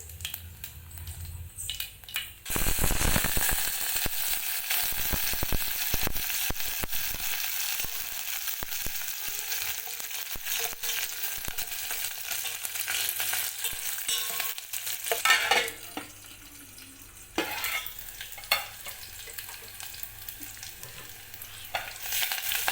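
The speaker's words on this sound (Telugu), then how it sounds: "పప్పుకు 2 స్పూన్లు ఆయిల్ వేసుకొని, ఆవాలు, జీలకర్ర, పచ్చిమిరపకాయలు," Mustard seeds, cumin and green chillies temper in hot oil for an amaranth and tomato dal, giving a steady crackling sizzle with sharp pops and stirring scrapes that runs for over twenty seconds with no talking.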